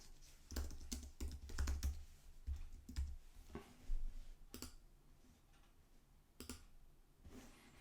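Fingers type on a computer keyboard in uneven bursts of soft, close key clicks separated by short pauses, quiet and without talking.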